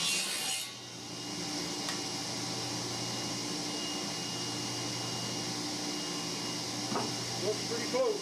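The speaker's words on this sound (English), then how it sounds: "we'll just set our pieces of wood like this, run them through, cut a tenon." Pieces of wood are run through a machine to cut a wooden tenon, giving a steady, close whirring drone that holds for the whole stretch, with a few brief scraping bumps near the end.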